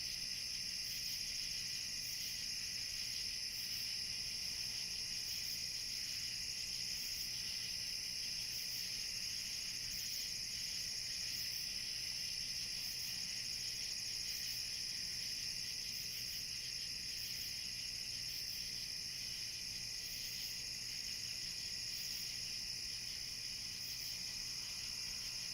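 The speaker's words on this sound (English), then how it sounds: "I know the crickets and stuff," Crickets chirping outdoors at night in the woods, a dense, steady high-pitched trill that runs unbroken and fairly faint throughout.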